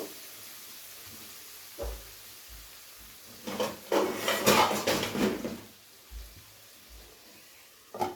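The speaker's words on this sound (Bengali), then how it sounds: "যাতে টমেটোটা গলে যায় সেই কারণে একটু ঢাকা দিয়ে দিলাম।" A lid goes onto a pan of katla fish curry cooking over a low-to-medium gas flame, giving a cluster of metallic clatters and knocks in a quiet kitchen, with a few soft thuds before and after.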